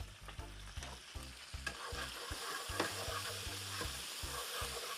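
Vegetables for Jamaican beef patty filling sautéing in a pan, with a continuous close sizzle broken by rhythmic thuds and scrapes as a spoon stirs them.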